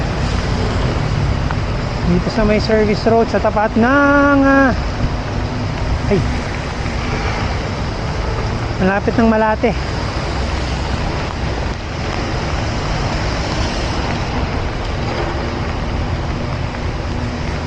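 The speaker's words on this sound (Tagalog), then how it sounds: "malakas na yung ulan" Heavy rain pours on a flooded service road along Roxas Boulevard near Malate, Manila, while a cyclist rides through it. A constant loud hiss of rain and wind runs throughout as someone talks over it.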